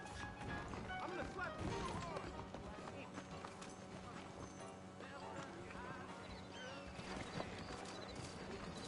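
Saddled horses' hooves clip-clopping in the western video game Red Dead Redemption, a fairly quiet, irregular clatter of steps mixed with game music and other in-game sounds, with speech present.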